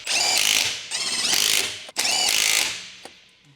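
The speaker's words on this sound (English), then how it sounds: "Use a 19mm deep socket with an electric impact wrench to tighten the wheel hub bolts." An electric impact wrench with a 19 mm deep socket drives wheel hub bolts on a 2015 Ford Explorer, giving two loud, close bursts of rapid rattling hammering separated by a brief pause.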